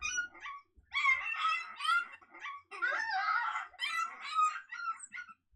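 Young coyotes aggravated at each other yip, whine and snarl in rapid, overlapping high-pitched bursts, an agitated chorus of squeals and growls with no talking.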